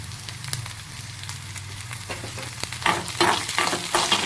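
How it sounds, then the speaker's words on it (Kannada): Ginger, garlic and green chilies frying in oil in a pan, with a steady close sizzle and spatula stirring scrapes that grow louder and busier toward the end. "ಇದನ್ನು ಫ್ರೈ ಮಾಡ್ಕೋಬೇಕು."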